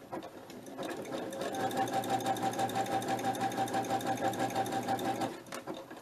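Sewing machine running a zigzag stitch on fabric, a steady close whirring buzz that holds for about four seconds after a brief start, with a rapid even needle rhythm throughout.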